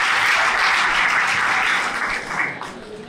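Loud, dense applause from a school audience of students fills the room, steady and sustained before tapering slightly near the end.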